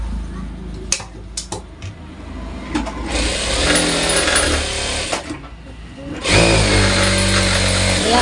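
Domestic sewing machine stitching a blouse, running in loud continuous bursts with short pauses and stops between them, then starting up again strongly near the end; no speech.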